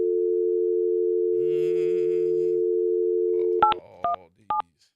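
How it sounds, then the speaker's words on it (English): A telephone call is placed: a steady, loud dial tone holds for several seconds, then cuts off and gives way to a few short, separate beeping dial tones. "I'm about to call her live on the air"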